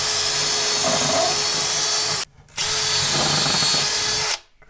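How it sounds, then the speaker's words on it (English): A power drill drilling into a wall whirs loudly and steadily in two long bursts, each stopping abruptly, close by with no talking. "take your drill, the same drill bit, and just mark on the wall"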